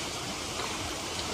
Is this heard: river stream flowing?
yes